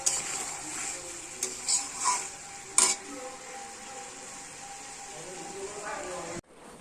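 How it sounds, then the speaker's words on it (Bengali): Fish head muri ghonto made with hilsa being stirred in a pan over a soft sizzle, with a few clinks and scrapes of a spatula on the pan, and a sudden stop near the end. "মাথা দিয়ে মুড়ি ঘন্ট করছি। একটু কষবো সুন্দর করে।"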